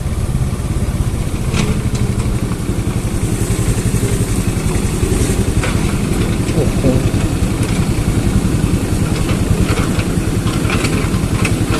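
A Honda Dio scooter engine putters steadily and close on a slippery hill road, running continuously while someone talks over it.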